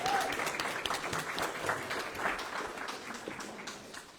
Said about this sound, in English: I think Luke and Sam deserve a massive round of applause for the information they've given.